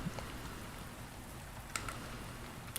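Rain falls steadily in the video game Rainswept, a soft, even hiss of droplets that holds at low volume, with a couple of faint brief clicks near the end.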